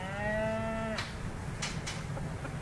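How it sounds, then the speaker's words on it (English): A single cow lows on a farm, a moderately distant drawn-out moo lasting about a second, followed by faint rustles and quiet background ambience. "It's a cow."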